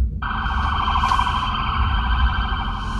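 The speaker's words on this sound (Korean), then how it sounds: "뭔 일이 났는지 경찰차가 지나간다고 그래갖고 차들이 옆으로 쫙쫙 갈라져가지고 길을 터졌어요." A police car siren wails steadily nearby as it passes through heavy traffic, its tones sustained over a low rumble of engines with no talking.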